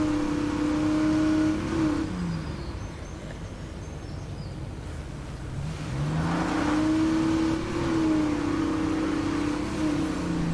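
A car driving in the zombie survival video game State of Decay 2, its engine humming steadily and rising in revs with a few pitch swoops as it accelerates, loud and continuous with a brief dip midway.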